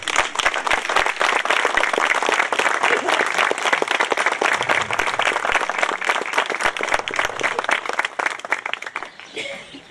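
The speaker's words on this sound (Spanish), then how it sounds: "Un aplauso." A university audience in Buenos Aires claps steadily with crisp, distinct hand claps in a dense, lively rhythm, fading slightly near the end, with faint voices underneath.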